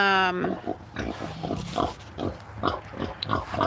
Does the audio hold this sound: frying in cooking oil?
no